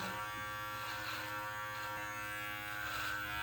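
A beard trimmer set to 6 millimeters buzzes steadily as it rakes down over a mustache, a constant close electric hum with slight shifts in tone as it moves.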